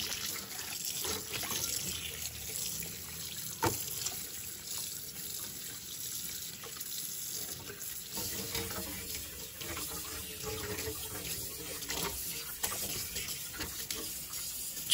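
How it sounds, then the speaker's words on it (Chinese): A cleaned pork stomach is rinsed under running tap water at a kitchen sink. The water streams and splashes steadily with small irregular surges, at a moderate level, and no one speaks. "最后再用清水多冲洗几遍。"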